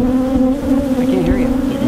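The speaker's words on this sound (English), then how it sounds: "These guys are angry now just because I'm a clumsy beekeeper." Angry honeybees swarm around an opened hive box, a loud, close, steady buzzing drone with individual bees whining past as their pitch wavers up and down.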